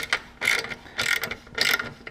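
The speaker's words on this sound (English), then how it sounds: "we're going to grab this quarter drive ratchet with the deep 10" Quarter-inch drive ratchet with a deep 10 mm socket tightening an exhaust clamp on a Triumph bobber: three close bursts of rapid, crisp ratcheting clicks with short pauses between, no talk.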